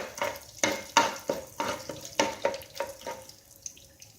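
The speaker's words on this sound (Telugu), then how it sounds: "ఆయిల్ వేడెక్కిన తర్వాత పోపు దినుసులు వేసుకోవాలి" Tempering spices (chana dal, urad dal, cumin and mustard seeds) fry in hot oil, with a rhythmic series of spatula scrapes and stirs over a light sizzle, close up.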